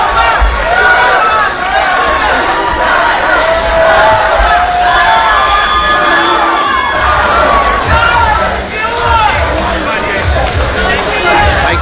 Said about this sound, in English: Fantastic crowd here at the joint of the Hard Rock Hotel and Casino